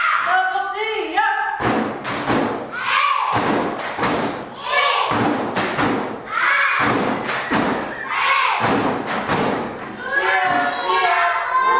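A group at a UKIN UKMPPG 2022 gathering claps a rhythmic chant in loud, sharp bursts of synchronized claps, with shouted voices chanting between and over them.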